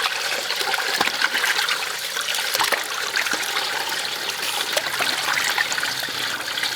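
Running tap water pours steadily over oxtail from yellow cattle being rinsed, a continuous close splashing trickle with occasional small clatters, no talk.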